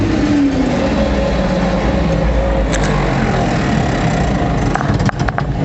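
A farm vehicle hauling manure roars loudly after jumping out of gear, a heavy engine droning steadily before settling, with a few clunks near the end.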